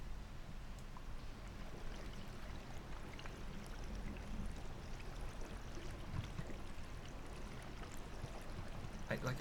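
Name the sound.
flowing water in the video game Conan Exiles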